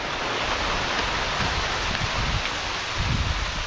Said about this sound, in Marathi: आता पाऊस यायला सुरुवात झाली आहे